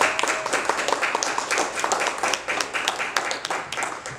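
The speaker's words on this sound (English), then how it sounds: "let's have a warm round of applause for Mr. David Octavio." Audience members clap for an arriving speaker at a communication talk, a brisk patter of distinct individual claps rather than a full roar, moderately close and without speech.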